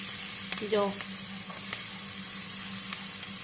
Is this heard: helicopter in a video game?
no